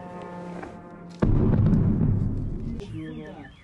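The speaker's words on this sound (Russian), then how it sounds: "на котором слышен пролет беспилотника и взрыв от попадания" A low engine-like drone of an attack drone flying over Ukraine hums, then a sudden loud blast of its impact erupts and slowly rumbles away, followed by faint chirping tones.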